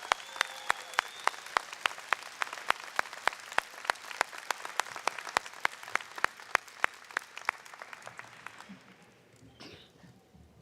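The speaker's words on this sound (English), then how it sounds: "Please join me in giving them a big round of applause." Applause for teachers, faculty and staff at a 2021 graduation ceremony of a training center: sparse, distinct claps at a steady pace for about eight seconds, then fading into a quieter hall.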